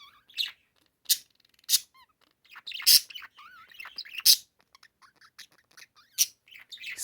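A pet songbird sings indoors in a series of bright, high chirps and short trilling phrases, close to the microphone, with brief gaps between bursts and no talking.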